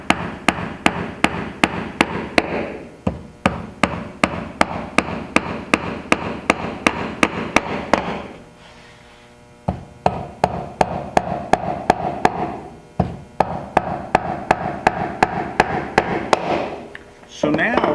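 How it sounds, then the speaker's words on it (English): Nails hammered into a glass box assembly, a long series of sharp, evenly spaced close taps in two runs separated by a short quiet pause. "take your time, nailing"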